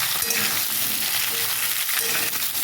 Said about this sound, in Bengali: এইভাবে আমি ভেজে নিচ্ছি বন্ধুরা